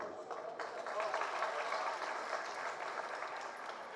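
A Jain sermon audience breaks into applause, a steady wash of many hands clapping at a moderate distance that carries on throughout.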